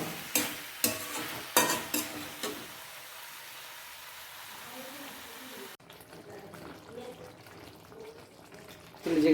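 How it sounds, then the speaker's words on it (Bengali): Onion and capsicum are stirred and fried in a pan for chilli chicken, with a few sharp scraping knocks at first, then a soft steady sizzle that continues quietly afterward. "পেঁয়াজটা ক্যাপসিকামটা আমি ভালো করে মিক্স করে দিয়েছি।"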